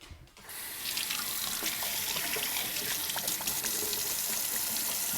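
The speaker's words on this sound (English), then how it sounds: "I'm going to wash my hands" Hands are washed under a running kitchen tap, a steady close stream of water splashing into the sink after the faucet turns on, with no voices.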